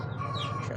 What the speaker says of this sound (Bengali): দেখেন মোরগগুলো ডাকছে।